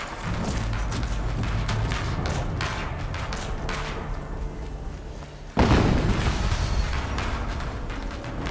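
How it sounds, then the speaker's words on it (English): An explosion in Horizon Zero Dawn Remastered on PS5 lands as a sudden loud boom partway through, cutting into a dense rumbling background of game noise, followed by a sustained roar. "An explosion."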